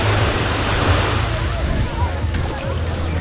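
Rough, choppy sea surf washing onto the beach at Canasvieiras in Florianópolis after rain, a steady broadband roar with low rumbling pulses and wind buffeting the microphone throughout.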